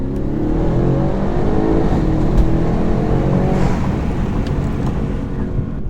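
Stage 3 tuned Audi S6 accelerating hard and shifting up through gears, a loud continuous engine roar with rising pitch and wind noise throughout, no talking.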